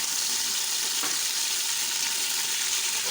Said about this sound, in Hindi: गोश्त को मैंने घी में डाल दिया है।